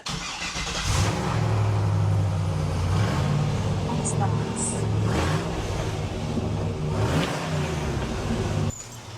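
A car engine turns over and rumbles loudly, revving up and down in a throaty idle, while a person speaks briefly over it.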